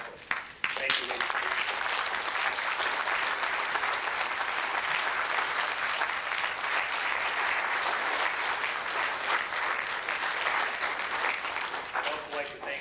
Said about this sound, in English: I'd like to have them stand and receive a round of applause also